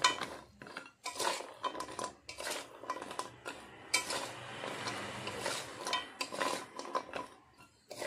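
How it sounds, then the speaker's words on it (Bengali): Fried kathi gaja sweets being tossed in sugar syrup in a pan, with repeated scraping and clinking of a utensil against the metal pan in an irregular rhythm, close and fairly loud, with no talking. "এবার আমি ভেজে রাখা গজাগুলো দিয়ে দিচ্ছি। এই গজাগুলো চিনির রসের সঙ্গে ভালোভাবে"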